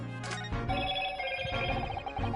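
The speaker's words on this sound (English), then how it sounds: "Phone!" A telephone rings in The Great Ace Attorney Chronicles video game, a clear electronic trill that repeats in quick pulses over a soft background.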